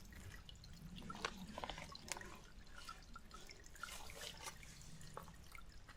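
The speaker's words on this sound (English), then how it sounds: "look at the trickle right here" A small trickle of water runs along a hiking trail, a faint, steady babble with light drips scattered through it, close by and on its own.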